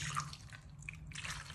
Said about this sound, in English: I've got a can of beef broth here. I'm gonna take the lid off. Just pour it all over those potatoes and the ranch.